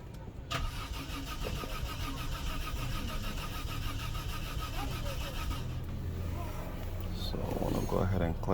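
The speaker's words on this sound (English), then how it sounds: "let's go ahead and check and crank it again and see what happens" A Peugeot 407 with a crank-no-start fault being cranked, the starter motor whirring in a rapid rhythmic pulse for several seconds before cutting off, followed by a brief engine surge near the end, loud and close.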